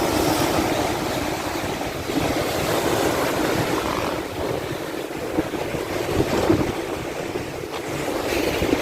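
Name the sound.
ocean waves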